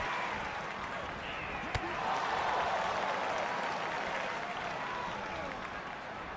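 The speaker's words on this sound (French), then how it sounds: "qu'à chaque fois qu'il y a une prise, les gens applaudissent" A crowd applauding a wrestling move in the video game WWE 2K24, as steady sustained clapping across the whole stretch with one sharp impact early on.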